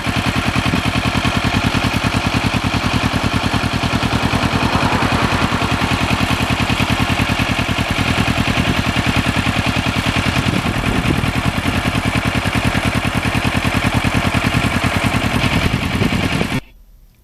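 Engine of a Kawasaki H1 motorcycle running steadily at close range, a loud, buzzing two-stroke drone that holds even the whole time and cuts off abruptly at the end, with no talking.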